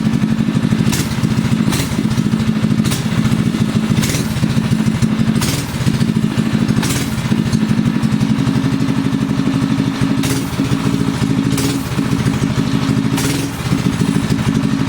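A Harbor Freight Predator 6.5 hp small engine after a carburetor rejet, running at a steady chugging idle with repeated sharp throttle blips every second or so, close and loud, without speech.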